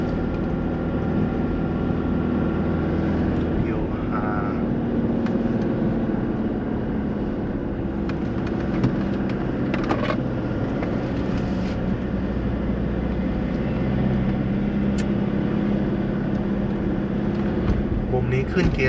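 A car engine pulls steadily uphill in third gear at about 2,000 rpm on a moderate community-zone slope on the mountain road up Phu Thap Boek, a continuous mid-level drone heard from inside the car while someone talks over it.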